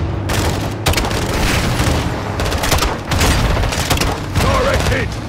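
Grenade launcher fire and explosions in the video game Call of Duty Modern Warfare during a cartel firefight, with repeated heavy booms and bursts of gunfire in loud overlapping waves and brief gaps between volleys.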